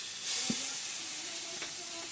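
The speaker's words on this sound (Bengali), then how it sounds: "এখানে জিরে আর সর্ষে একসাথে একটু ফোড়নের জন্য দিলাম" Dry chilies with cumin and mustard seeds hit hot oil for a Bengali tempering, giving a steady soft sizzle with a brief louder hiss near the start and a few faint clinks, close up.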